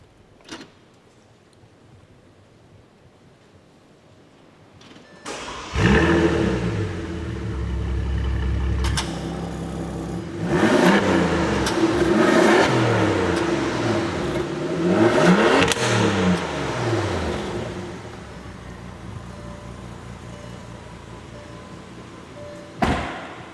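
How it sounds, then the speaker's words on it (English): A 2016 Bentley Continental GTC engine cranks and catches, then idles before revving up several times in rising and falling surges, with a click and a thump at the edges. "let's fire up the engine"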